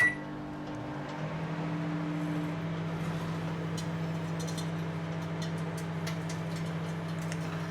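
A microwave oven runs with a constant low electric hum, with faint ticking and clicks scattered over it, no voices.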